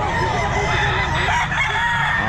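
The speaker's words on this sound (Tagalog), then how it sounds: "Maraming manok mga kabossing." Many chickens and roosters at a busy pet market in Bocaue, a dense continuous chorus of clucking and crowing, loud and close, with crowd noise underneath.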